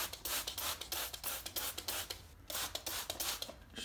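A trigger spray bottle mists cleaner onto a Silverado intake filter in repeated short hissing bursts, quick and close, alone without talk.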